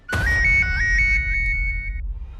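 A phone rings loudly with a bright electronic melody, a short repeating pattern of tones that cuts off after about two seconds.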